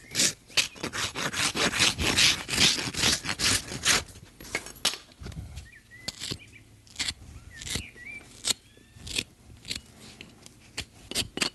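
Horse's hoof being trimmed before fitting a glue-on shoe: a rapid series of rasping, cutting scrapes and sharp snips, dense at first and then sparser with short pauses, close and fairly loud with no talk.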